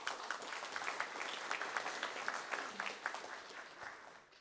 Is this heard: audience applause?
yes